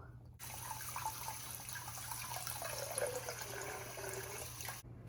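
Tap water running steadily into a sink while a trumpet is rinsed during cleaning, a continuous close splashing flow with faint knocks of the brass, starting and stopping abruptly.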